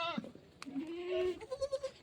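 A goat bleats up close, several wavering cries with a few short bursts toward the end, while people talk nearby.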